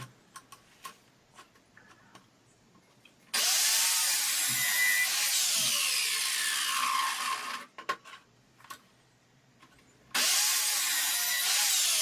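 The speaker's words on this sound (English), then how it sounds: "now I'm going to use the miter saw just to cut down those L shapes" A miter saw cuts pallet wood into L shapes in two loud, steady whining cuts, with light ticking and small workshop knocks in the quieter gaps between them.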